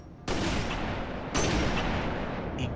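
Two heavy, booming sniper rifle shots in a Halo Reach match, about a second apart, each a loud blast with a long rumbling tail.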